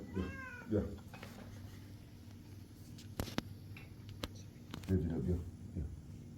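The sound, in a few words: cat meowing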